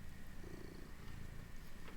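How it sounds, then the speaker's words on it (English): Cat purring steadily in a lap, a soft, continuous, close rumble with no talking over it. "So if you hear sort of purring, that will be why."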